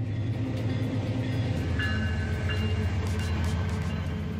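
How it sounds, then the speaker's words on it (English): A very long freight train of over 250 carriages rolls past near a steep road in Antonio Dias, Minas Gerais, a steady low rumble with rhythmic wheel clatter and faint metallic squeals, moderately distant, no talking. "massive trains, over 250 carriages long, speed by with incredible power"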